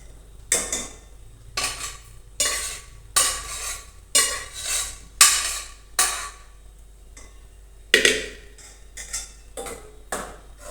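Boiled dal goes into a pan of vegetable curry with tomatoes and chilies, and a utensil stirs it in a run of loud, rhythmic scraping and clinking strokes against the pan with brief pauses.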